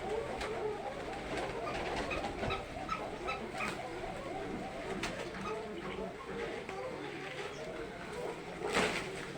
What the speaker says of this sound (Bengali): আল্লাহর রহমতে অসংখ্য কবুতর রয়েছে।